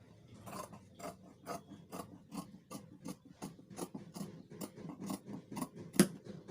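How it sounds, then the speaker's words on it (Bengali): Scissors snip through blouse fabric with a steady rhythm of short, crisp cuts, roughly two per second and close by, for a 32-size bra-cut blouse cut straight from the cloth. No one speaks. "তো ব্যাকের গলাটা আমরা কেটে নিলাম।"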